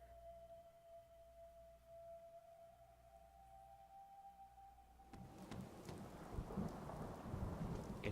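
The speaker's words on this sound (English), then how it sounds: "It's raining, it's pouring." Rain and thunder in the video game Fallout 4: a quiet, steady drizzle with a faint tone gives way to a loud rumble of thunder and heavier rain crackling in the second half.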